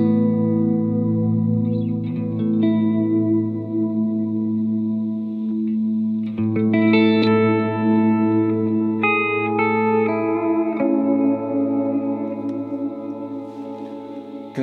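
An ambient electric guitar preset on a Positive Grid Spark 2 amp rings out in sustained, shimmering chords washed in chorus, echo and reverb, with notes layering and slowly decaying across the whole passage.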